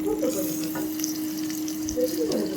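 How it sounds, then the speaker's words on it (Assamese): Oil-free pork curry with tomato being stirred in a pot, a soft continuous simmer and sizzle with faint spoon movements, close by, with a steady low hum underneath. "এয়া বিলাহী দি পেলাই মই লৰাই দিম"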